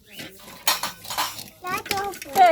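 Small dishes and cutlery clatter and clink close by while being washed with soap at a sink, alongside a child's and an adult's speech; the sounds come in short irregular bursts between the voices.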